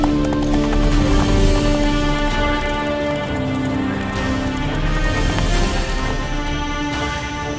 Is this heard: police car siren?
no